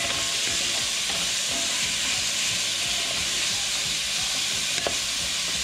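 Vegetables sizzle and fry as they cook down in a hot aluminum Magnalite pot for Cajun Alfredo, a steady broadband hiss with faint stirring clicks, close and continuous without talk.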